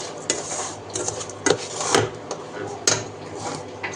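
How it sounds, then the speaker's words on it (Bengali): A spoon scraping and stirring a sour-sweet dried jujube pickle with salt and sugar in a pan, giving a close, rasping rub punctuated by irregular metallic knocks against the pan over a few seconds. "সব কিছু দিয়ে একটু নেড়ে চেড়ে নেব"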